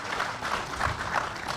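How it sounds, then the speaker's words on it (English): An outdoor crowd at a labor monument groundbreaking claps, a brief spell of soft, scattered applause at moderate distance. "Let's give it a round of applause"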